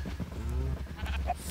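A sheep in a farming video game bleats in a drawn-out, wavering call, close and moderately loud, over a low background hum with a few soft game noises.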